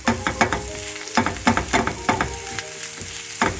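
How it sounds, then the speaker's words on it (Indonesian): Garlic sautéing in a pan sizzles under a string of sharp scraping stirs that come in uneven bursts, close and fairly loud, with a faint tonal hum behind. "Nah, ini bawang putihnya saya tumis."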